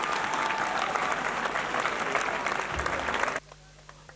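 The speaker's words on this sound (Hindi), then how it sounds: "भरपूर तालियां," Sustained audience applause at a turban-tying (dastar bandi) ceremony after a Quran recitation, steady and full for over three seconds before cutting off abruptly into near silence.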